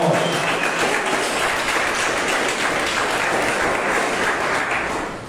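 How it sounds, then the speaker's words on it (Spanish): Church congregation at a theology school gathering breaking into loud applause, a thick continuous roar of clapping from many people that holds steady and tapers slightly at the very end. "El aplauso se oiga fuerte"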